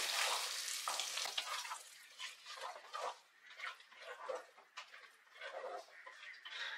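Sweet pongal with jaggery and fried dry fruits is stirred in a pot, producing soft, irregular bursts of thick mixing and scraping at close range, fairly quiet overall.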